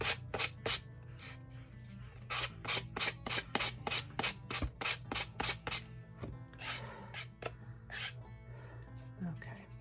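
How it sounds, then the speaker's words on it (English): Sanding a faux fireplace overmantle part by hand, heard as a quick run of rhythmic, close-up scraping strokes that repeat evenly for several seconds with brief pauses between them. "I'm just going to sand it before I end up tearing it."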